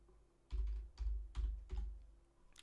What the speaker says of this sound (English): I don't know if like that would pop up if I type in John